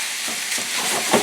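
Chorizo and potatoes fry in a pan, giving a steady, close sizzling hiss with a few brief louder bursts of crackle near the end.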